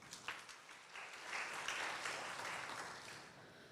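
An audience applauds to welcome a student presenter at an online academic webinar, a steady wash of clapping that swells midway and holds at a moderate, slightly distant level with no talk over it.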